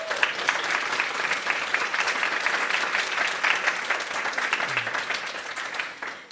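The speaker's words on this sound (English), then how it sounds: "let's give them a round of applause" An audience applauds panelists after a public talk on brain health, a dense, sustained wash of clapping from a crowd that holds steady for several seconds, moderately distant, with no talking over it.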